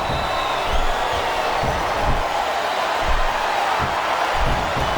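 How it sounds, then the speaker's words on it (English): A wrestling arena crowd in the video game WWE SmackDown vs. Raw 2007 roars with a dense, continuous cheer, with dull thuds from the ring underneath. "I think these superstars are getting some feedback from the crowd, JR."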